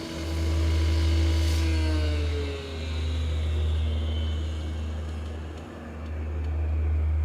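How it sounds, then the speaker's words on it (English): A Dash 8 turboprop airliner's engines drone loudly and steadily at an airport, a coarse, buzzing, two-stroke-like tone with faint shifting whines above it, swelling and dipping slightly throughout. "Weird sounds from the Dash 8. Almost sounding like a two-stroke."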